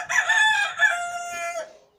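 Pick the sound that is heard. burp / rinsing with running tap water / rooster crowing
rooster crowing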